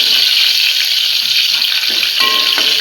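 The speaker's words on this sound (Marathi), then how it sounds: "खरपूस होऊ दे लसूण आपली" Garlic tempering in hot oil with asafoetida, a loud, close, continuous crackling sizzle with a few faint scrapes.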